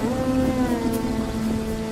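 Steady rain pours in an animated village story scene, a dense even hiss with no voices over it.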